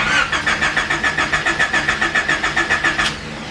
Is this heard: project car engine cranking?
yes